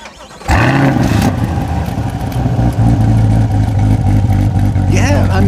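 A naturally aspirated rally car engine on a country road rally stage fires up and revs hard, a loud close mid-pitched roar with steady droning harmonics and a rising rev near the end, with voices faintly underneath.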